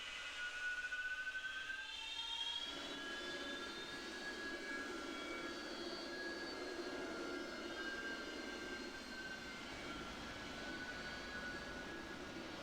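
A fully armed AV-8B Harrier jet spools up for a rolling start down a carrier deck in a flight simulator, a steady loud engine roar with whining tones that swells and deepens after a few seconds and then holds.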